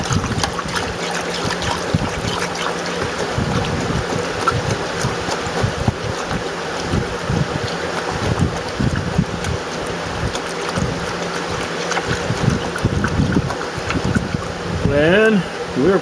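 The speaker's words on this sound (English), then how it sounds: "I'm going to give it a stir." Liquid stirred in a vessel during a gold refining batch from computer scrap, giving a continuous watery swishing and trickling up close with a faint background hum.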